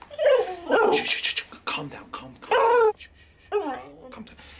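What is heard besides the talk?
dog barking and whimpering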